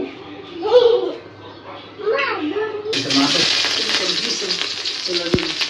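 Chopped onions and vegetables dropped into hot oil in a pan, bursting into a loud, steady sizzle that continues after someone talks nearby, with a light clink near the end.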